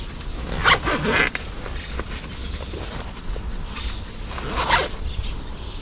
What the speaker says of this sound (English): so now we got this zipped up